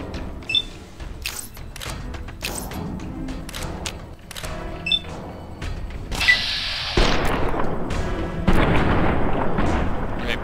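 Gunshots and booming impacts from Fallout: New Vegas come irregularly, growing denser and louder toward the end, with a voice talking underneath at moments.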